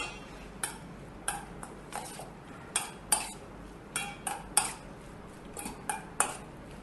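A spoon knocks and scrapes against a pot while stirring squid stuffing mixture, about a dozen sharp clinks at an irregular, unhurried rhythm, close and clear with no talking.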